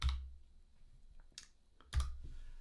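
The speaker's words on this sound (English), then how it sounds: "at the shell prompt I type this command lsmod pipe grep vbox guest" A terminal command is tapped out on a computer keyboard, a few separate faint clicks spaced across a quiet moment, close and alone.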